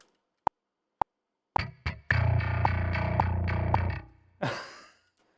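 A few sharp plucked clicks lead into a heavily distorted bass note, buzzing and sustained for about two seconds, followed by a short distorted burst.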